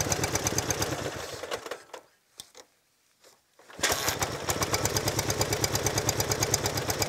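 A Dnepr MT11 motorcycle engine chugs with a rapid, even pulse, then dies into near silence broken by a few brief clicks. It fires again and settles back into a loud, steady rhythmic run.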